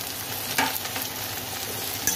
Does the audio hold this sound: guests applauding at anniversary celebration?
no